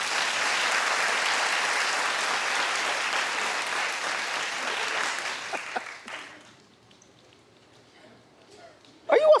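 Studio audience at a daytime talk show bursts into loud, sustained applause that rolls steadily for about six seconds, then tapers to scattered claps and near silence before a brief sharp burst at the end.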